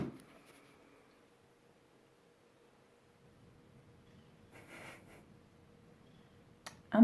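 A phone knocked over by a cat lands with a sudden, loud clatter close by, bursting from a near-silent room right at the end after only faint background rustling.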